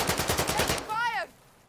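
Rapid automatic gunfire from a Call of Duty match, a dense burst of repeated shots for about a second, then a short warbling electronic tone before the sound cuts to quiet.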